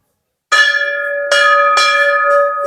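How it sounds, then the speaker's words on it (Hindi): A metal temple bell at Masani Mata temple rings three times after a moment of silence, each loud, close strike followed by a bright, sustained ringing tone that lingers between hits. "घंटी बजाते रहो"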